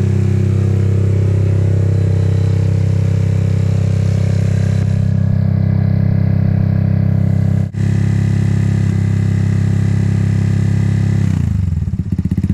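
A Honda Biz motorcycle engine idles loud and close as it warms up, holding a steady, even drone for most of the clip before the sound briefly falters and shifts near the end.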